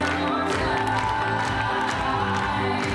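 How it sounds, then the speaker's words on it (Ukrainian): A theatre audience gives a standing ovation after a performance, with continuous dense clapping mixed with scattered cheers filling the hall. "Вітають оплесками стоячи."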